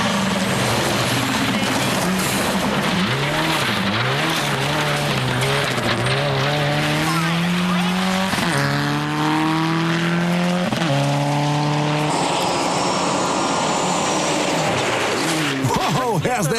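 A rally car on a New Zealand gravel stage in Hawkes Bay roars loud and close, its engine rising through gears with repeated upshifts, under a commentator's voice.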